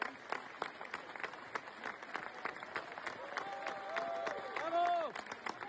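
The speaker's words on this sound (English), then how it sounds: "just give this slow clap" Applause in the Canadian Parliament during an address by two leaders, with sharp individual claps standing out over steady hall clapping and a voice speaking over it, moderately distant.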